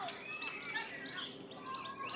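Small birds chirp and tweet in quick, overlapping bursts near an almost dry pond, fairly faint but clear and with no talking.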